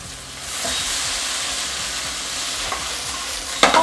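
Onions, carrots, baby sweet corn and mangetout stir-fry in a wok over the highest heat, a steady loud sizzle with scattered clinks and scrapes of tossing, plus a sharper clatter near the end.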